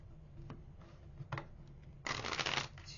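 Tarot cards being shuffled by hand, a short soft riffle swelling into a louder, dense burst of card flutter near the end, close and alone without talk.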